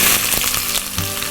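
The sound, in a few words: onion added to cumin frying in oil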